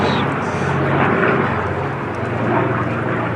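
A North American Aviation P-51 fighter flying at the Duxford air show, a steady, loud propeller-engine roar that swells slightly and holds throughout, with no talk over it.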